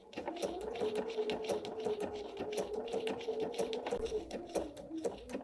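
A sewing machine stitches fabric applique on a pillow wrap, a fast steady motor whir with rapid needle clatter, close, brief pauses near the end.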